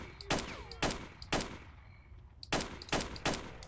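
Gunfire in the video game S.T.A.L.K.E.R.: six sharp, loud shots, three spaced about half a second apart, a short pause, then three more with echoing tails.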